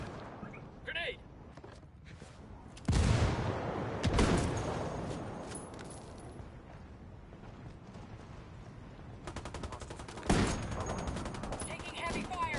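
Gunfire in the video game Ghost Recon Wildlands, with bursts of automatic fire and loud sharp reports, the heaviest near three, four and ten seconds, over a steady background of battle noise.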